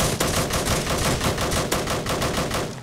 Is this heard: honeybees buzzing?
no